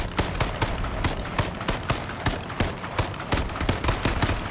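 Rapid, continuous gunfire in the video game H1Z1, dense bursts of sharp shots repeating about twice a second over several seconds at steady loudness.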